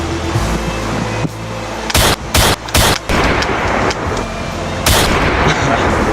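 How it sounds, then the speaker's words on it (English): Several loud gunshots ring out in a game-style showdown, a cluster of sharp blasts around the middle followed by one more, over a low rumbling background. "you take shots at me"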